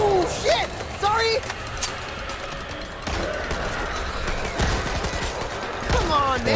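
Gunfire and chaotic combat noise in the zombie shooter Back 4 Blood, with scattered loud shots and mechanical clatter under frequent talking and exclamations from players.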